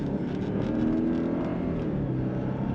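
An Audi RS7 engine revs in manual sport mode during up- and downshifts, a steady, moderately loud hum with rising and falling pitch and no talk over it.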